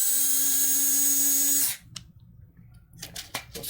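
A small power screwdriver drives an M3 by 6 mm button-head screw into a breakout board, a steady high whine lasting about a second and a half before stopping abruptly, followed by faint handling clicks.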